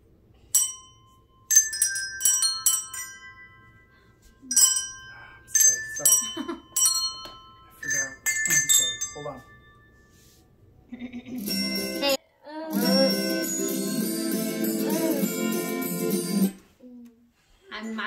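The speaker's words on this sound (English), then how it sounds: "when you ring your bell, it looks good if we lift it up" Christmas handbells played by a family ring out in scattered, clear tinkling strikes at first, then a denser stretch of ringing mixed with voices and background chatter.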